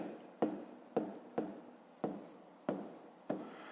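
A pen or pencil writes numbers by hand on paper during a fifth-grade math exercise, giving six or seven quiet, evenly spaced scratchy strokes that each start with a sharp tap and fade away, close by with no talk.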